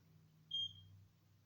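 A single brief, high-pitched chirp from a malfunctioning smoke detector, faint and slightly distant, over a low steady hum.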